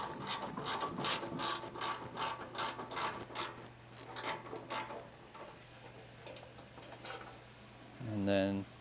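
A ratchet wrench backs out the battery cover bolts on a Tilmor 520 tractor, giving close, rapid bursts of clicking in a quick rhythm that fade into a low steady hum, then a brief louder rattle at the end.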